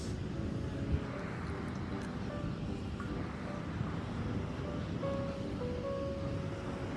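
Ocean waves roll onto a cold beach in a steady, low, rumbling wash, mixed with wind buffeting the microphone, with no voices.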